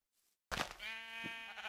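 A sheep in a video game bleats once, loud and near. It follows a brief faint sound and stands alone without talk.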